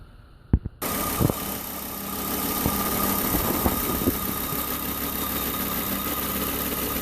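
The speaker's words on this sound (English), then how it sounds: "After we start the engine, make a sound like belt or something weird noise." A 2005 Volvo V50 T5 engine cranks and settles into a steady idle with a thin whining tone like a belt rubbing between engine and transmission, recorded close with a few clicks at the start.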